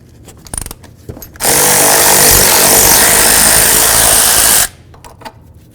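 A power tool, likely an impact or electric drill, runs in one steady loud burst of about three seconds while removing the ABS wire mounting nut on a 1998-2002 Honda Accord front suspension, with quiet clicks before and after.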